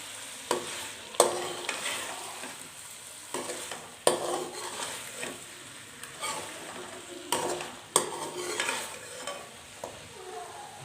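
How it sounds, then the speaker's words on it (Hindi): A spoon scrapes and stirs fried okra with chicken and green chillies in a hot pan, several distinct clanks and sweeps over a soft sizzle, close and repeated. "तो मिक्स कर लेंगे अच्छे से।"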